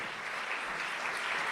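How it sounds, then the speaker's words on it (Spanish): A church congregation applauds during a sermon. The short, smooth wash of hand clapping is distant, soft and even, with no separate claps standing out. "Yo creo que Él se merece un aplauso"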